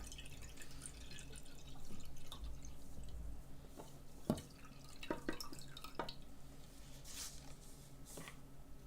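Grape soda is poured out and drains away, with faint trickling, dripping and splashing over a low background hum and a few sharper knocks, and no talk over it.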